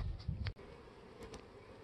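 Honey bees buzzing at a beehive with a honey super on top, a soft continuous low drone with a few brief bumps and rustles, faint and close.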